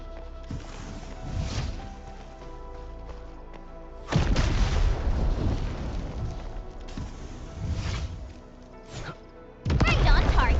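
Explosions in the video game Endfield, several deep booming blasts with sudden loud onsets and rumbling tails, mixed with game effects and voices.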